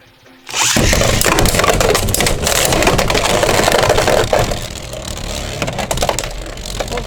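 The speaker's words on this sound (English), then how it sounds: "Time for a test battle. Up against a defensive type Beyblade, Sphinx Cowl, 980 Gear Needle." Two Beyblade X tops, Hells Hammer 3-70H and the defensive Sphinx Cowl 9-80 Gear Needle, launch and clash in a stadium with a loud, dense grinding rattle that runs steadily for several seconds, easing slightly near the end.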